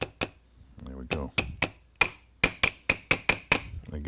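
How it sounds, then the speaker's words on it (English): A nylon hammer taps a pin into an FM-9 pistol-caliber carbine lower receiver, giving sharp, close strikes that come singly and then in a quick run of about ten evenly spaced blows, with brief talk near the start. "nylon hammer, because I can kind of beat on it, nothing bad's going to happen."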